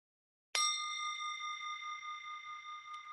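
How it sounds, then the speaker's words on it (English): A single meditation bell is struck once, ringing out loud and clear with a bright onset and a long, steady shimmering sustain that barely fades over three seconds, with no voices. "you recognize this is a bell"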